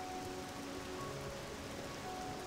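Steady rain in OpenMW, the Morrowind engine, falling as a dense, even hiss with no voices over it.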